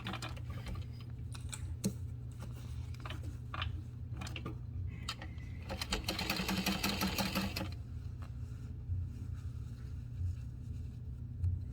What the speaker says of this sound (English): Okay, then we're going to baste across the top.